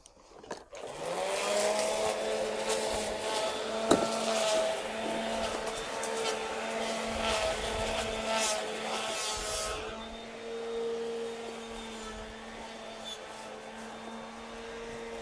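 Garden string trimmer out of cutting line, tackling an overgrown garden: the motor starts and revs up into a high buzzing whine, holds steady with slight surges, then eases to a lower idle, close by and alone.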